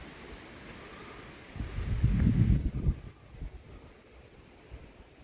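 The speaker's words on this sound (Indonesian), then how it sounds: "Anginnya kencang." Strong wind on a hilltop during a solo hike at Bukit Watu Jengger, rising into a loud, rough buffeting gust against the microphone for over a second before easing back to a steady low rush.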